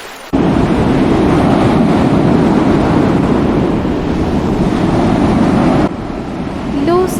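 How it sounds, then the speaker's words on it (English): Sea waves make a continuous deep roar, loud and close, with a brief dip near the end before the surge builds again. "the sea."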